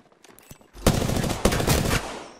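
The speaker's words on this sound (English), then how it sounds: "Firing. Reloading." Rapid automatic gunfire from an extended heavy mag weapon in the battle royale shooter Apex Legends, two loud sustained bursts of shots close up, with no talking.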